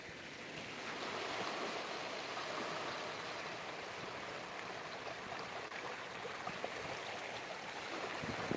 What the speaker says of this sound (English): Let's watch the waves come in.